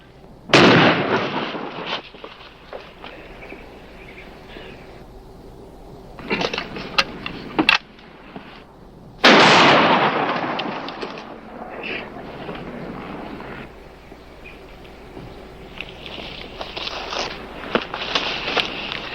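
Shotgun blasts boom in a western TV show, several loud, sharp reports each followed by a decaying roar over a low background hum.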